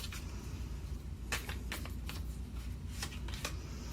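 Tarot cards shuffled by hand before another card is drawn, a few quick riffling flutters and soft slaps close by over a low steady background hum.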